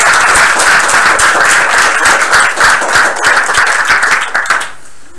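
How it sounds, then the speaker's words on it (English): A hackathon audience applauds a team's presentation with dense, loud, sustained clapping that cuts off abruptly near the end. "Everyone, give them a round of applause."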